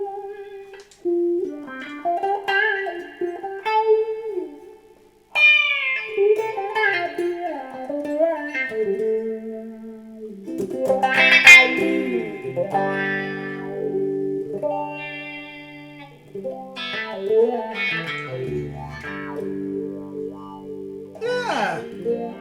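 Electric guitar played through a tiny Sonicake volume/wah pedal with a touch of reverb, sweeping vowel-like notes and spiky bends in loose melodic phrases, loud and close, with no voices.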